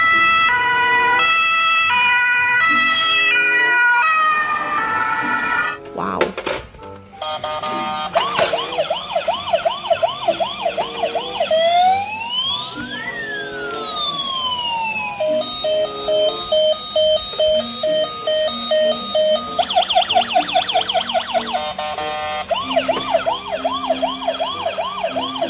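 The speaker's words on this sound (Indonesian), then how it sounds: "Mobil ambulans warna kuning." Electronic siren tones of a yellow ambulance in the video game Jurassic World Evolution 2 cycle through wailing and yelping patterns, loud and close, with brief chimes and a pause partway through.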